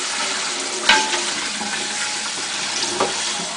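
Hot tap water blasting into a pan coated with still-liquid honey glaze, a steady close rush of water with a couple of brief louder splashes as the stream hits the pan.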